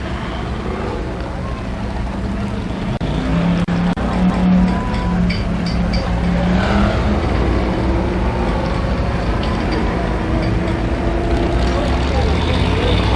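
Straight stock cars race at Columbus Motor Speedway during a 1993 Labor Day night program, their engines a continuous loud roar from the track, with a voice talking over them.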